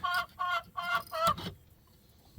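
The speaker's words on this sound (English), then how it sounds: "That chicken loves to make a lot of noise." A chicken calls out in four loud, close squawking clucks in quick succession, then falls quiet amid faint background hiss.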